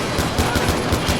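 Rapid automatic gunfire from an AK rifle in the video game Far Cry 4 rattles in a fast, evenly spaced burst, loud and sustained across the clip.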